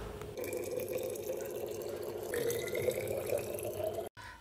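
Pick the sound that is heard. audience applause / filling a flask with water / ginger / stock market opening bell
filling a flask with water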